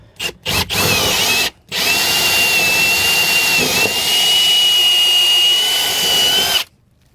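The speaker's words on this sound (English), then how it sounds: "I'm going to drill down." Power drill boring down through the floor of a 2007 Four Winds motorhome, a few short trigger bursts followed by one long, steady high whine lasting about five seconds, loud and close, then stopping.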